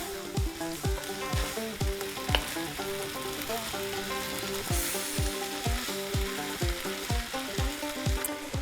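Frozen corn and calabacitas sautéing in a pan, a loud continuous sizzle with regular scraping stirs roughly twice a second, close and unbroken by any voice.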